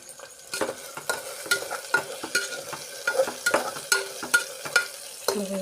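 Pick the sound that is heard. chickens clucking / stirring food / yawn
stirring food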